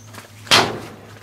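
A hat swung outdoors to whack a carpenter bee (Xylocopa virginica) makes one sharp, close slapping hit with a brief rustling tail, preceded by faint quiet background.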